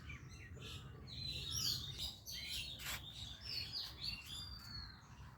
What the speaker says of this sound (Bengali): পাখির মধ্যে ঝগড়া হয়, শুধু মানুষের মধ্যে নয়।